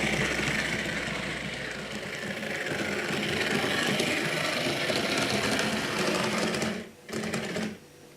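A model train engine runs on an exhibition layout track with a close, steady motor whir and a slight judder from the worn engine and dusty rails, dipping briefly before it picks up again.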